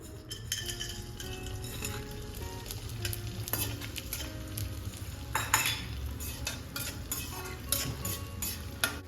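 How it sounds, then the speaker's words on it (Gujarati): Edible gum (gond) frying in ghee, a busy crackling sizzle with repeated spoon scrapes and metallic clinks against the pan, close and steady throughout. "ત્યાર પછી હવે આપણે આ જે ગુંદર છે એને પણ ફ્રાય કરી લઈશું।"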